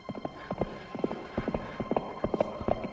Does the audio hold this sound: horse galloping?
yes